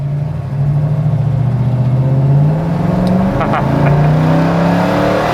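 A loud, deep 396 big-block V8 in a 1967 Chevrolet Chevelle SS roars and revs up, pitch climbing steadily, close to the microphone with a brief rattle midway.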